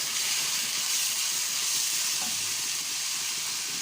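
Rice and vermicelli frying in a pot, giving a steady, even sizzle and hiss close by throughout, with no talk.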